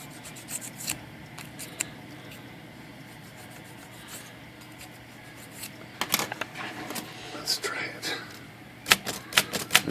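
Sharp, close mechanical clacks of typewriter keys and type bars striking during repair work on a typewriter with burred type bars, scattered at first and then clustering into quicker bursts near the end over a low hum.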